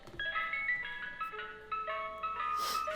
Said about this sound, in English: this is the Mr. Softy truck that Victor was talking about